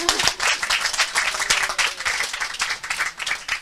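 An audience claps at a county town hall, a dense, steady round of applause from a room full of people, close and lively throughout with no distinct voices.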